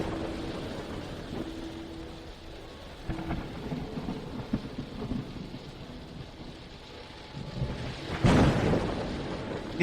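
Steady rain with rolling thunder, a loud crack of thunder near the end over a constant downpour.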